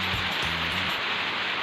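Steady rain pours down as a dense, even hiss with no breaks, loud and close throughout, and nothing else stands out above it.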